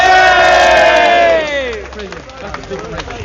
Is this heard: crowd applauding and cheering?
yes